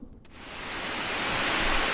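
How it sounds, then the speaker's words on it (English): Torrential rain pouring down outdoors after flooding, a dense hiss that swells steadily louder over two seconds after a brief quiet thump at the start; no thunder is evident. "the rain started up again"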